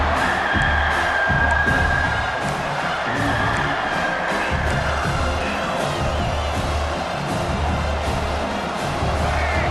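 Stadium crowd in EA Sports College Football 26 cheering on a big third-down defensive play, a loud, sustained roar with rising whoops across the whole stretch.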